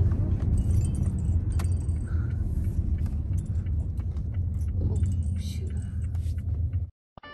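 Inside a moving car, a steady low road rumble and engine drone continue with faint rattles and soft murmurs over it, then cut off abruptly near the end.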